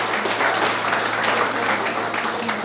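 An audience at a Holi gathering of a Mithila cultural association in Chennai claps steadily, producing a broad, continuous wash of applause that is fairly loud and close and lasts throughout.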